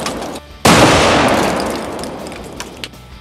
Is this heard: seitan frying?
no